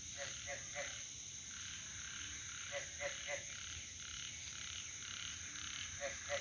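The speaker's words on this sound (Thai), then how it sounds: "มาฟัง ฟังเสียงกบ" Frogs croak in repeated short bursts, male and female calling back and forth, several calls clustered in groups against a steady high insect-like drone at night; fairly close and clear, no talking.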